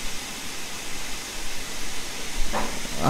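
Steady broadband hiss of a vintage steam locomotive building pressure in a train simulator game, continuous and fairly loud throughout, with a brief brighter burst near the end.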